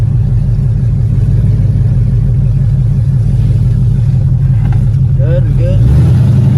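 A C6 Corvette fitted with open longtube headers rumbles in a loud, steady, deep drone from start to finish, and a voice speaks briefly over it near the end.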